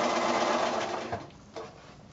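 A sewing machine runs fast in a steady whir while chain piecing quilt squares, then slows and stops with short bursts as the next piece is fed in.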